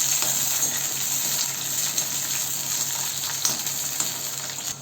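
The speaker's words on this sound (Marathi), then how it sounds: "तेलामध्ये भेंडी टाकू आणि फास्ट गॅसवर आपण भेंडी तळून घेऊया." Sliced okra frying over high heat in hot oil, a steady dense sizzle with small crackles and pops throughout, close and moderately loud, with no talking.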